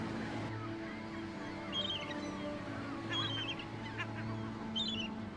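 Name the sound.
yellow-legged gulls calling at a cliff colony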